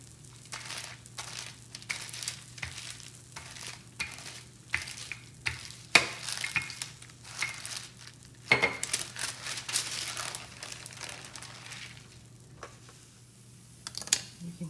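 Fathead dough tortillas sizzle in a pan in a steady, close hiss broken by scattered sharp crackles and clicks, with a constant low hum running beneath.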